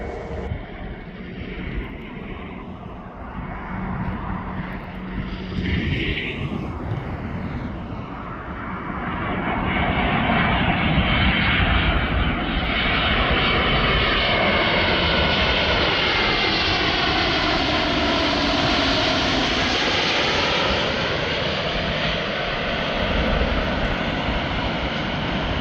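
A fixed-wing airliner comes in to land at an international airport, its engines roaring steadily with wind rush, swelling louder and shifting pitch about midway through, with no talk.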